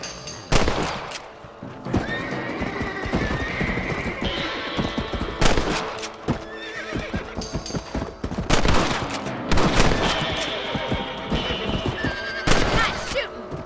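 Rifle shots crack repeatedly while hunting rabbits in the Red Dead Redemption video game, loud and close, mixed with horse whinnies and clip-clopping hooves in the game's outdoor scene.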